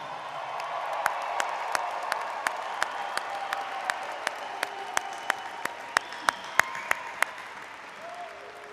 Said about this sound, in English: A little louder round of applause